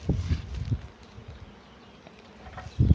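Honeybees buzz around a hive being rescued, faint and intermittent, with a few louder close passes at the start and end over quiet background handling.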